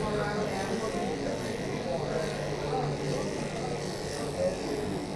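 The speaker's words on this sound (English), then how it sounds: "So there's her clipper work." Electric clippers buzz continuously while trimming a Yorkie into a Schnauzer-style cut, a close, steady motor hum with slight shifts as the blades move through the coat; someone talks softly over it.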